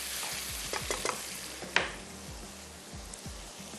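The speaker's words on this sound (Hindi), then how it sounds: "और इसमें मैं अब शामिल कर देती हूँ हरी मिर्चें" Green chilies added to beef karahi in a wok sizzle and fry steadily, with a ladle stirring in repeated scrapes and a sharp clink of metal partway through.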